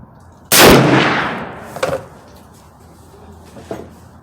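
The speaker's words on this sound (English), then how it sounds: "I'm gonna try 2 more shots at 50 yards" A single loud Henry lever-action rifle in 45-70 Government with open sights fires once at a 50-yard target, a sharp blast with a long decaying tail, followed by a couple of softer clicks or knocks.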